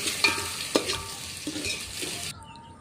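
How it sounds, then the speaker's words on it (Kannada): Garlic is stirred as it fries in a pan of sizzling oil for a Kannada-style fish curry, giving a continuous close hiss with a few sharp scraping clicks of the spoon before the sizzle stops abruptly near the end. "ಸ್ವಲ್ಪ ಕೆಂಪಾದ ನಂತರ ಬೆಳ್ಳುಳ್ಳಿ ಹಾಕಿ ಮತ್ತೆ ಸ್ವಲ್ಪ ತಿರುವಿ"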